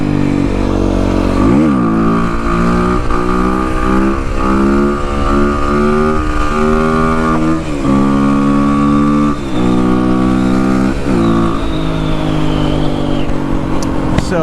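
A 2005 Kawasaki KLX300R plated dirt bike engine revving hard and climbing through the gears, each pull rising in pitch, then dropping at the shift before climbing again, loud and close throughout.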